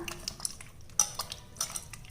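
A utensil scrapes and clinks against a bowl in irregular strokes as a thin rice flour and water batter is stirred, quiet and close.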